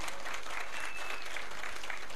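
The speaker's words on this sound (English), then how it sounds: "Yes, this also deserves a clap." An audience at a speakers' training event claps loudly and continuously, a dense, even burst of applause filling the whole moment without pause.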